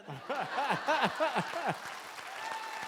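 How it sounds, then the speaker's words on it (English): An audience claps at a presidential Q&A session, with voices and laughter rising over the clapping at first, then the clapping trailing off into quieter scattered clapping. "you'll have to tell me how you get applause like that"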